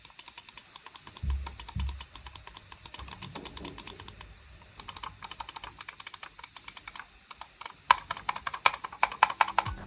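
Rapid sharp clicks from the M1 and M2 buttons of an Aula SC900 budget lightweight gaming mouse, tapped in quick uneven bursts with no talking, growing denser and crisper toward the end.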